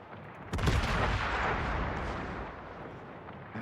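A naval warship's gun fires in a video game with a single heavy boom that rolls into a long, rumbling decay, loud and close, with no talk.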